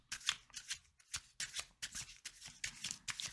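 A deck of tarot cards being shuffled by hand, with repeated riffling bursts and soft card slaps in an irregular rhythm, close and clear, with no talking.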